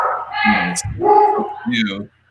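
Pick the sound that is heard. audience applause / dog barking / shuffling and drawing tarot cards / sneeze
dog barking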